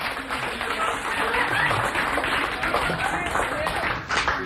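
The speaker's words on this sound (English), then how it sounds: "Give him a round of applause." A small studio audience at a live radio broadcast applauds in a steady, dense wash of clapping that lasts throughout, with voices talking over it.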